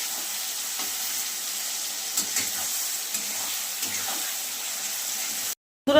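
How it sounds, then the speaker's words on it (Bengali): Spices for fish kalia fry in a pan with a steady, close sizzle, broken by a few soft stirring scrapes and ending abruptly in a brief silence. "দিয়ে ভালো করে ভেজে নেব এইগুলো"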